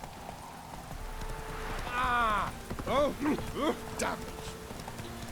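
Roach the horse gallops in The Witcher 3, a steady clip-clop of hooves running under game ambience while someone talks over it.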